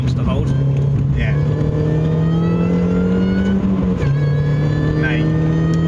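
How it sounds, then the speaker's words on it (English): Supercharged Mini Cooper S R53 pulling on a stormy road: a loud, steady engine drone with the pitch climbing slowly, a brief dip near the end as the revs shift, then the climb resumes, with road and rain noise around it. "So if you just start accelerating now, start accelerating."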